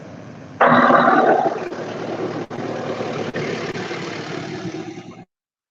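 A tractor engine rumbles in the background as a steady, loud, broadband roar. It surges briefly, then holds an even drone with a couple of short dips before cutting off abruptly.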